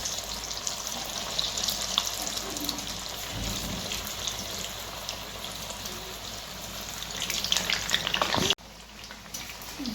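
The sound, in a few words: coriander vadi frying in hot oil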